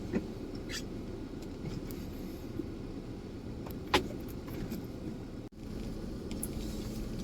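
Steady low engine rumble inside a truck driving to a farm workplace, continuous throughout with a brief click and a short dropout, no talking.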